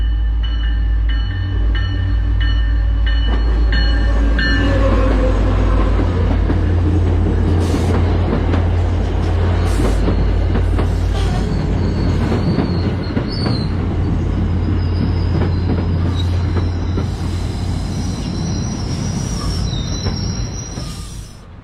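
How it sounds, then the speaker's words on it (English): A commuter rail train passes at Beverly Depot, opening with a loud horn chord before the heavy rumble and rhythmic clatter of wheels roll steadily past for about twenty seconds, then begin to fade. "Plus, lots of trains here."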